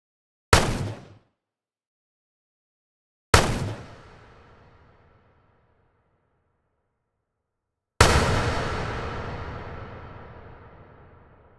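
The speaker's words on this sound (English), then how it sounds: "pay attention to the reverb return level on our gunshots track" Three single gunshots from a game audio track, each a sharp bang followed by a reverb tail that grows from almost none to long and heavy decay, separated by silence.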